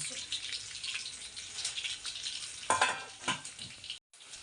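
Cumin, mustard seeds and garlic fry in hot oil with a close, steady sizzle and sharp crackling pops. The sound cuts out briefly near the end.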